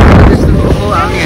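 Strong wind buffets a boat out at sea off Osaka, Japan, a loud, close, continuous roar of gusts hitting the microphone with no pauses.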